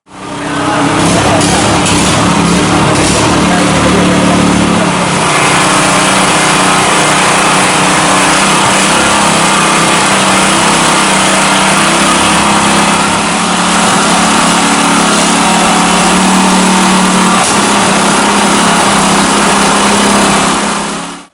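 A portable water suction pump engine runs continuously at high revs, a loud, close, buzzing drone that holds steady throughout while volunteers use it to pump floodwater out of a flooded mosque in Banjarmasin.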